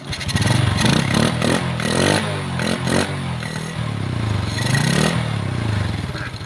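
A carbureted Honda XRM 125 motorcycle engine runs close by after fresh clutch lining work, with loud, rough revving and uneven throttle blips over a mechanical rattle.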